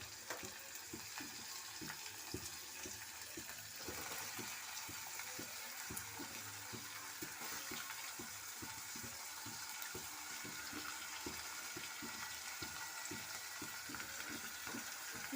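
Purple eggplant fries in oil with chopped onions and curry leaves, producing a steady soft sizzle with faint intermittent stirring clicks, quiet and continuous throughout.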